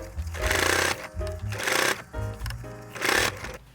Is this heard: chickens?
no